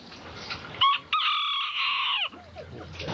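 Free-roaming chickens in Key West, a rooster crowing once loudly and clearly near the middle, with softer clucks and short calls before and after.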